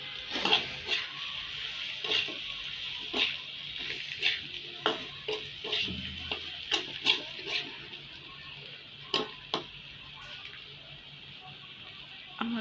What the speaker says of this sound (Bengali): একটু সময় নিয়ে এগুলো ভালোভাবে ভেজে নিতে হবে।